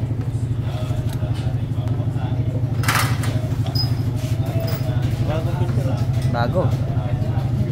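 Motorcycle engine idling and running steadily in fourth gear with a gearbox fault that prevents shifting, a constant low rumble throughout with someone talking over it.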